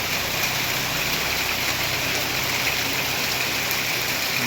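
Heavy rain driven by stormy wind in Kerala makes a dense, unbroken roar and hiss that stays loud and even throughout, with no voices.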